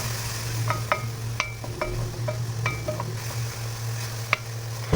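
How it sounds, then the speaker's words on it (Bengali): Spices and chopped tomato frying in a pan as a little water is added, a soft steady sizzle under repeated light clinks and scrapes of a spoon against the pan. "আর মশলাগুলো যেন না পুড়ে যায় সেই জন্য উপর থেকে একটুখানি জল দিয়ে দেবো।"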